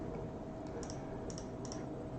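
Light plastic key presses on a calculator, a few quick soft clicks in small pairs over a steady background hiss.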